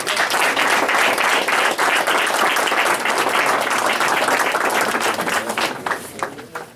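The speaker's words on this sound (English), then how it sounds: "Can somebody give a round of applause?" Loud, sustained applause from a press conference audience celebrating a new baseball facility, a thick wall of clapping that runs strongly and then thins out and fades near the end.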